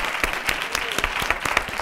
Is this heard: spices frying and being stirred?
no